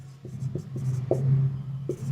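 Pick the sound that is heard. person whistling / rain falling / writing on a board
writing on a board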